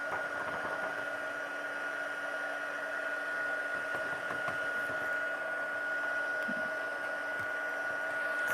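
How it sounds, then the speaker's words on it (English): A heat tool for melting embossing powder in paper crafting runs as a steady, even blowing hum with a fixed whine, close and constant throughout, alone with no talking. "Let me just heat up my tool."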